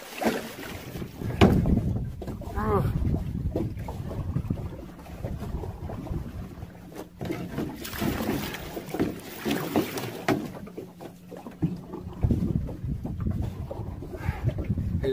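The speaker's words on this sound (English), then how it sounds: "My trolling motor, I don't know what the hell. It's going at like half of what it normally does here" Small fishing boat with a trolling motor running out on open water in rising wind, a steady low drone with wind buffeting the microphone throughout, close and continuous.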